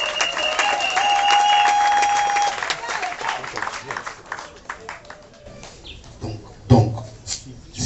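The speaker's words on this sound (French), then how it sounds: "Applaudissez pour Karine." Guests at a civil wedding applaud the bride Karine, with dense clapping and cheering for a few seconds. It thins into scattered claps and then fades under a voice and room noise.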